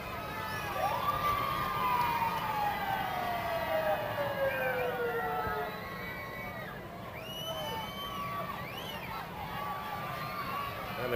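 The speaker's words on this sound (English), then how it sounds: "And they're followed up by some modern horsepower in terms of one of the new Sheriff's Deputy Police cars." A new sheriff's deputy police car siren in a 1990 Mardi Gras Day parade wails and yelps over a murmuring street crowd, with a long descending sweep followed by shorter whoops and a commentator talking underneath.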